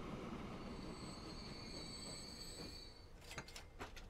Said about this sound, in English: Here comes our first train of episode number 2 into the steel mill.